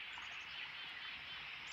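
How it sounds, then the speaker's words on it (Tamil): Small birds chirp faintly and continuously in a quiet natural spot beside a stream, the tweets sitting over a soft steady wash of background sound with no talking. "இந்த நீரோடையோட சத்தம், குருவிகளோட சத்தம்,"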